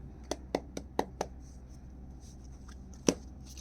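Tarot cards shuffled by hand up close and quiet, a quick series of four or five crisp card slaps, a pause with faint rustling, then one more sharp snap of the deck.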